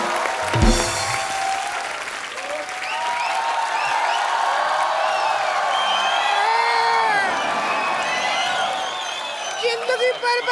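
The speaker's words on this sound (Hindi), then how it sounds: "जोरदार तालियां" Studio audience on a TV comedy show, The Kapil Sharma Show, bursts into loud sustained applause with cheering and whoops, a dense crowd roar lasting about ten seconds with scattered shouts on top.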